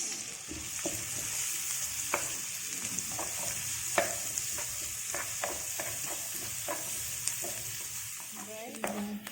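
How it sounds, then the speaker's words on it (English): Chopped onions fry in a hot pan for a Palak Paneer, giving a steady sizzle broken by repeated scraping stirs and clinks of a spoon against the pan, close and fairly even throughout. "And next goes the chopped onions."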